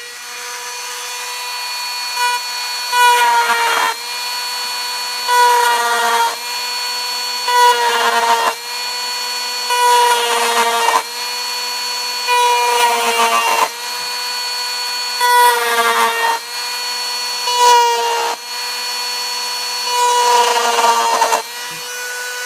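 A Dremel rotary tool cuts rivet detail into a model aircraft wing, giving a steady high whine broken by about nine repeated grinding passes, each a brief rasping burst with short pauses between.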